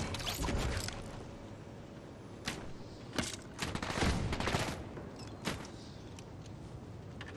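Bursts of gunfire from a weapon in Fortnite, with rapid volleys up front and scattered sharp shots later, loud and close over a steady game background.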